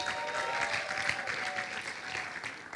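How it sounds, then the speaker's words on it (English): An audience at a comedy show gives a round of applause, a dense, steady clapping crowd at moderate volume over a faint tonal hum. "A round of applause for Ben Zion"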